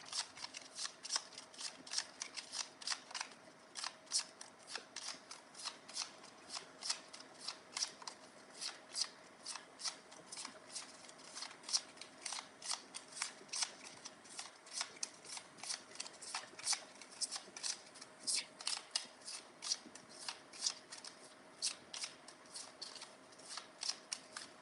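Tarot cards being shuffled during a live reading: a steady run of crisp, rapid riffling snaps and soft slides, close and continuous, with no voices over it.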